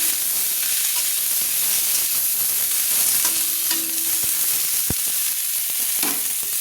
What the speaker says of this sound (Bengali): আলু আর ফুলকপিগুলো একটু ভেজে নিচ্ছি